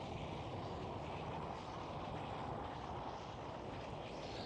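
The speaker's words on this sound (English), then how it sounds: "And there is the next British Airways, this time an A320." A British Airways Airbus A320 at Schiphol Airport gives a steady, distant jet engine rumble, faint and even throughout, with no voices.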